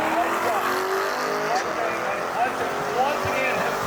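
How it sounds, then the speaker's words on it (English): A drag race car makes its run down the track at a Sick Week event, a loud, steady engine roar that carries throughout with commentary spoken over it. "Whether or not the car needs to make a good run right here"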